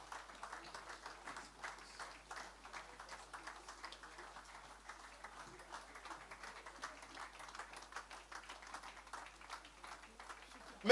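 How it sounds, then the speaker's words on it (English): Faint, steady applause from a conference audience welcoming a speaker to the stage, a sustained patter of many hands heard from a distance, continuous for several seconds. "Please keep clapping until he steps up to the stage."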